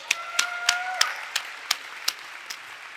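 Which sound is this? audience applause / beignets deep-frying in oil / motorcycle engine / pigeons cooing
audience applause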